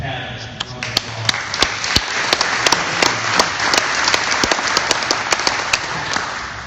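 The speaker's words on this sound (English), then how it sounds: "I want to have everybody give Pat a round of applause" An audience at a Mustang car giveaway event bursts into a round of applause, dense crowd clapping with several sharp individual claps standing out close to the microphone, steady and lively throughout.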